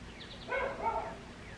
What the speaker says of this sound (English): the neighbors must have let their dog out because Boo Radley's going crazy inside